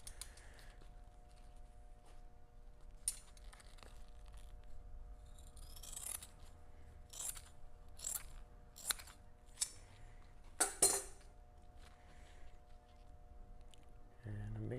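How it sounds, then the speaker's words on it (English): Thick-weave carbon fiber cloth being cut into pieces for a homemade paddle board, heard as a series of crisp, separate snips and rustles, close and fairly quiet, over a low steady background hum. "I'm just going to cut it, cut a couple of pieces"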